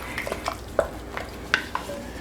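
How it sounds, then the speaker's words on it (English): A spoon works through frikadeller meatball mixture with onion in a bowl, making a few sparse, soft scraping and clicking strokes at irregular intervals in a quiet room. "I'm just going to stir it up, just like you would stir your meatballs"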